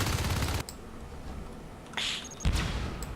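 Pistol gunfire in a competitive video game tournament match, a few sharp shots spread through the clip: a louder burst at the start, then short cracks near the end, with the game's background ambience between them.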